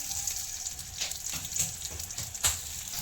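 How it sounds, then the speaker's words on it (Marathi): Chopped onion fries in hot oil while being stirred in a pan, producing a quiet, steady crackling sizzle broken by soft scraping swells from the stirring, with no voices. "कांदा तेलामध्ये नरम होईपर्यंत लालसर ब्राऊन कलर आहे येपर्यंत त्याला असं हलवत राहायचं"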